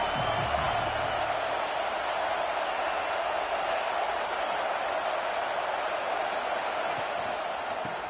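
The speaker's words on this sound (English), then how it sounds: "This crowd ready to make its presence known." A large football stadium crowd roars in a dense, continuous wash of noise, loud and sustained with no breaks, sounding broad and distant rather than close.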